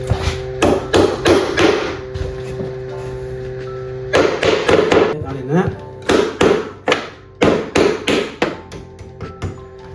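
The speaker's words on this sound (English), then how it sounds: "you can tap it with hammer" A hammer taps a metal floating shelf bracket into brick in quick bursts of sharp, close knocks, with short pauses between the groups and a voice talking quietly underneath.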